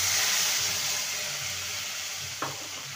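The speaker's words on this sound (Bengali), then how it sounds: "মশলাটাকে ভালো মতন কষিয়ে নেব" Ground spice paste frying with tempering in a pan for a raw banana and chana dal dish, a loud, even hissing sizzle that fades slightly, with one short scrape near the end.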